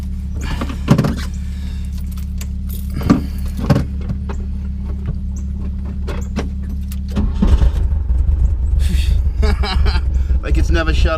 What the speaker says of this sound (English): This sure is a cold start here.